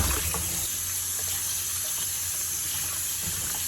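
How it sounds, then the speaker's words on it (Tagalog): Steady running tap water splashing in a sink while rinsing a milkfish, a constant broadband rush with a few faint clunks near the start. "Ngayon guys, i-rinse po natin siya."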